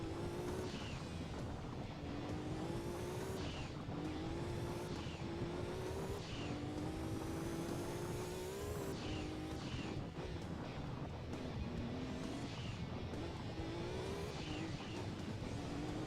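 Nearly 1,000-horsepower rally race car in Gran Turismo 2 on PS1, its engine screaming through repeated rising gear sweeps, each climb cut off by a shift, loud and continuous with no talk.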